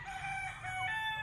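A rooster crows at a gamecock farm, its drawn-out call clear and steady at moderate distance, with faint cackling from other fowl in the background.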